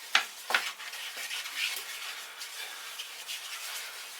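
Spoon scraping and stirring as all-purpose flour is worked into roast beef pan juices for gravy, with a couple of sharp clinks against the pan at the start, then soft, steady rubbing and a faint sizzle.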